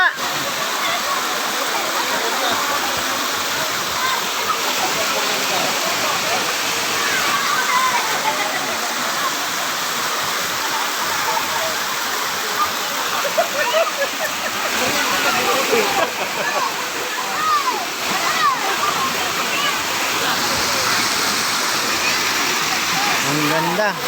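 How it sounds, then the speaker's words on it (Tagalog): Gabur Gabur Falls pours as a constant, loud, broadband rush of falling water close by. It stays steady throughout, with faint voices buried beneath it. "Ang ganda. Gabur Gabur Falls."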